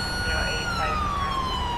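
A police siren wails steadily in the GTA5 LSPDFR police mod while on Chicago city patrol, a long sweeping tone held loud and constant over a rumbling engine and street bed.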